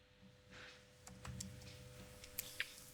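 Typing on a computer keyboard while searching in Windows 11, heard as faint scattered key clicks over low room hum.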